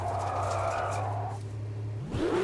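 Vintage Lamborghini Miura racing around Oulton Park in a racing video game, its engine droning steadily while the tires skid under late braking, followed by a sharp rising squeal near the end.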